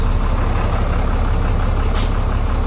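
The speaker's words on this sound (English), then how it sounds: "I hear brakes." A junk donor truck idles loudly with a steady low engine rumble, and a short sharp hiss of air brakes releasing cuts through near the end.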